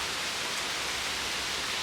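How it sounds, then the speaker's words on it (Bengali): Heavy rain falls steadily outside a village home, a continuous, even wash of noise with no other sounds breaking through. "আর ভারী বৃষ্টি চলে এসেছে"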